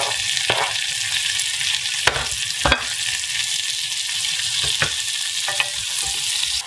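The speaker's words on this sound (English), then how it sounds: "Now that the meat is nicely browning, I'll add one chopped onion." Chopped onion hissing and sizzling in a hot pan alongside browning sous vide sirloin, a steady bright frying crackle broken by several sharp utensil knocks and stirs.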